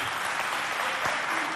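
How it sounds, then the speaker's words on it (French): Dense, steady applause from a crowd at a youth community event in a neighborhood hall, saluting the Kemkogi movement; a continuous wash of many hands, fairly close and loud, with a faint voice briefly underneath. "Applaudissez pour le mouvement Kemkogi."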